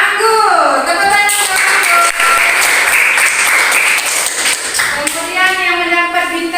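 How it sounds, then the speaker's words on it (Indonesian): A group of children in a classroom claps together in steady, loud applause for the winning group, sustained for several seconds with some young voices mixed in. "Tepuk tangan."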